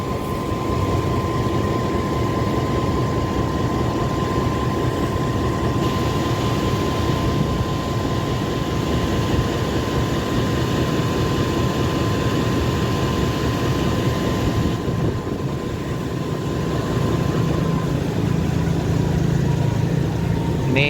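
A CC 206 diesel locomotive idles while warming up before shunting duty at a rail depot, a loud steady engine rumble with a constant hum, unbroken and close, no talking.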